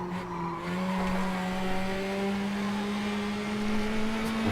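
Formula Trainer open-wheel race car at Oulton Park in the Automobilista racing game: a steady, buzzing high-revving engine note climbing gradually in pitch through a gear, loud and continuous without talk.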